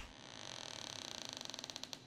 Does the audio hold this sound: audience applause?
no